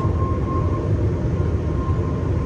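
A German passenger train slows to stop at Hangelsberg station, a steady loud rumble of wheels and running gear with a faint sustained whine riding above it throughout.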